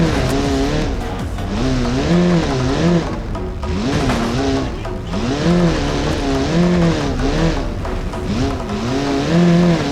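A car with a 2-litre engine, built as a Soviet touge racer, revs and wavers in pitch as it drives off-road over a dirt track through a small valley in BeamNG, loud and continuous with no talk.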